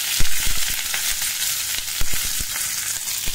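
Mustard seeds pop and splutter in hot oil during tempering for a buttermilk curry, a dense sizzle crackling with quick sharp bursts throughout, heard alone and close.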